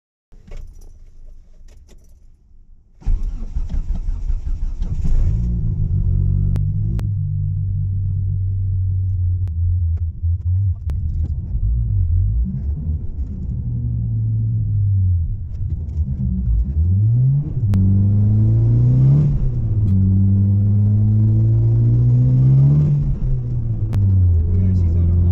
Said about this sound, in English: Let's drive this thing.